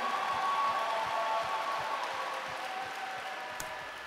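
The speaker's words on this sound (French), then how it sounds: "Applaudissons Jésus" A church congregation applauds, a dense, even patter of many hands at moderate level, slightly distant, with a faint sustained tone underneath.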